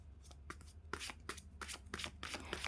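Tarot cards shuffled and drawn by hand: a run of close, crisp riffling bursts in quick irregular succession over a low steady hum, with no voices.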